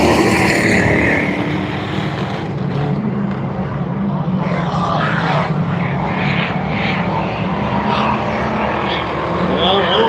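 Race cars roar away together at the green flag of a heat at Salina Speedway, a dirt oval, their engines forming a loud, steady, close-up wall of sound that never lets up for the whole stretch.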